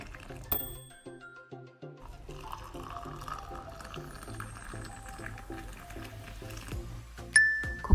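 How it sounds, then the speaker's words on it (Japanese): Hot water poured into a cup of dried butterfly pea flowers, a soft trickling fill with a few glassy clinks and taps at the start and a sharper clink near the end, fairly quiet and close. "まずは適量のお花をコップの中に入れてお湯を注ぎます"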